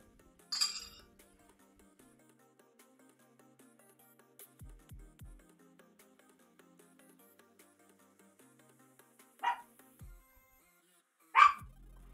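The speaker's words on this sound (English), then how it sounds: "Why are you barking?" A dog barks in a home kitchen where squash and apple crisp are cooking, a few short sharp barks spaced apart, fairly faint against quiet background clinks and thumps.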